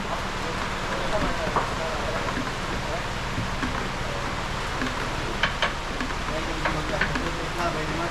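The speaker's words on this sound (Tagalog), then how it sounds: "Malakas na ng ulan." Steady heavy rain hissing across a surface, a constant broadband wash with scattered sharper drops.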